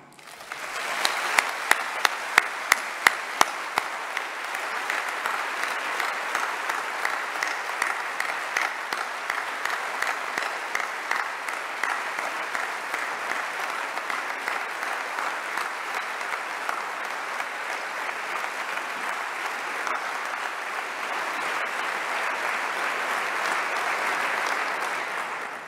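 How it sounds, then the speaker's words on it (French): Warm, sustained applause from a summit audience honouring Charles Aznavour at the 17th Francophonie Summit, opening with a few sharp claps and swelling into steady, dense clapping that continues evenly to the end. "de saluer la présence éternelle de Charles Aznavour par nos chaleureux applaudissements"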